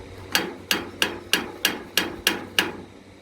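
A hammer strikes a metal connector fitted onto a metal beam for a patio or pergola, eight sharp, evenly spaced metallic blows ringing close and loud with brief decays.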